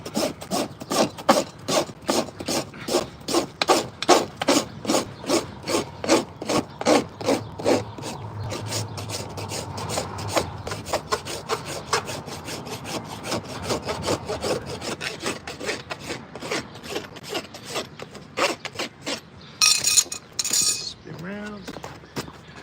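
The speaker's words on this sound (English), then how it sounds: "you just rasp it back" A farrier works a rasp across a horse hoof in fast, even strokes, dozens of rough scrapes close up. The strokes then turn into softer, irregular filing and end with a brief metallic clink.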